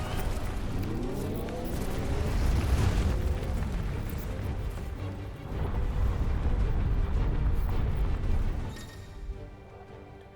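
The Brimstone attack in the video game Final Fantasy XVI sets off a heavy, rumbling explosion, a deep roar that swells, surges again midway, then fades out.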